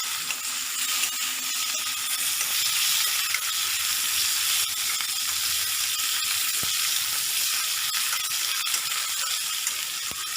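Tomato hitting hot oil already seasoned with cumin and green chilli for a quick fish curry, giving a steady, loud, continuous sizzle with no talking throughout.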